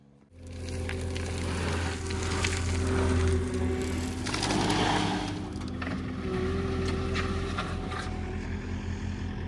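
A skid steer works on a farm, its steady diesel engine drone holding loud and close throughout, with bursts of scraping and clattering from the machine's work rising over the engine.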